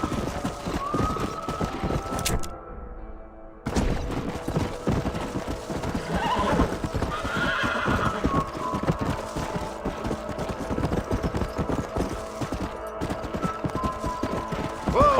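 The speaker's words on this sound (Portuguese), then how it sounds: "Olha o cavalo." Horses in the Red Dead Redemption game gallop with steady clip-clop hoofbeats and neigh loudly several times, under a busy mix of game sound and music, with no talking.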